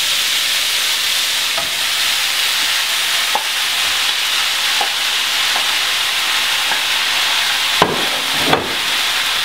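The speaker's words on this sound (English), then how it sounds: "You can probably hear it sizzling." Steady, loud sizzling of ground meat browning for chili in a hot pot, with occasional sharp scrapes and taps of a utensil stirring it.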